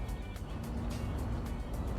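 Simulated road traffic in the city-building game Cities: Skylines hums in a steady engine rumble, with repeated swishes of vehicles passing close by.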